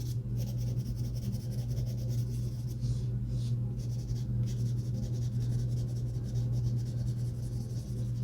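A colored pencil burnishes shadows on paper in a continuous soft scratching rub, close and steady throughout with no talking.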